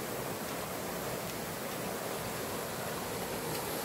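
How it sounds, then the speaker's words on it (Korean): Mountain stream water rushes through a rocky gorge in Juwangsan's Yongchu canyon, Cheongsong, a steady broadband roar of flowing water that fills the whole clip with no voices. "밑에는 계곡 물이 흐르고."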